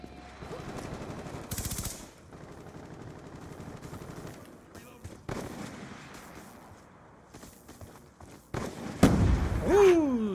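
Sniper rifle fire in the video game Modern Warfare 4: several sharp gunshot bursts and cracks scattered through busy game noise, ending in a louder whooshing, ringing stretch.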